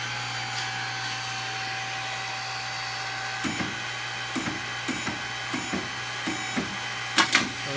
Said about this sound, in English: you hit start, and that starts the hydraulic motor